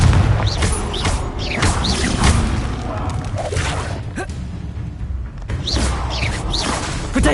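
Booming blasts from a Confringo spell in Hogwarts Legacy go off amid loud, dense game combat noise, with whooshes and thuds and a voice heard under the din.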